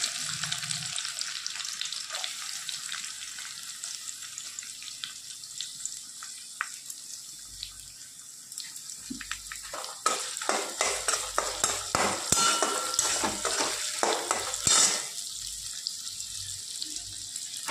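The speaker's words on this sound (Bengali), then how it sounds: "এখন কড়াইতে তেল দিয়ে দিয়েছি, দিয়ে এখন এই যে পেঁয়াজ লঙ্কাগুলো দিয়ে দিলাম।" Steady sizzle of onions and chillies frying in hot oil in a wok, joined partway through by busier scraping and clattering as the pan is stirred.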